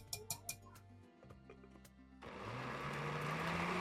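A blender grinds a blueberry cheesecake mixture of liquids, cheese and cornstarch, starting after a few light knocks and then running as a steady, loud whirring drone to the end.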